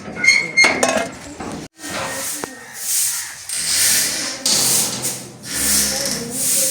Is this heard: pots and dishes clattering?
yes